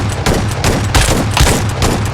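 Shotgun fire in a video game: loud, close, broadband blasts in quick succession, about four or five shots overlapping with game noise, with no voices.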